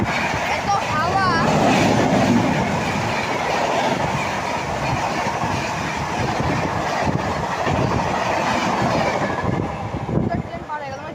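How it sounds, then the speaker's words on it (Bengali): A train runs through a railway station beside the platform, a loud continuous rumble and clatter of wheels and carriages that stays close and steady throughout, easing slightly at the very end. "ট্রেন পার হয়ে গেল,"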